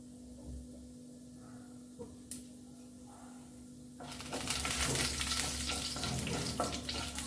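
Urad dal frying in hot oil for a Kerala-style masala dosa filling: a few quiet kitchen knocks, then a loud, steady sizzle that bursts in midway and crackles on close up to the end.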